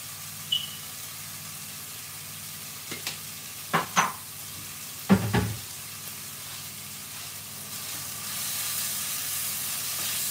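Vegetables frying in a pan with paprika are stirred, giving a few short scraping clatters over a steady low sizzle that swells louder toward the end; no one talks.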